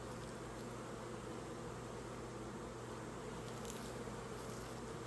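Steady, close buzzing of many honeybees around a backyard hive, a constant droning hum with no pauses, heard alone without talk.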